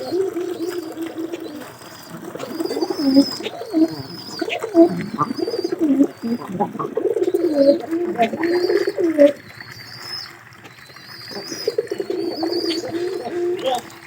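Kept pigeons coo steadily and close by in low, rolling, overlapping calls, briefly dropping off around the tenth second before resuming, with thin higher chirps scattered above.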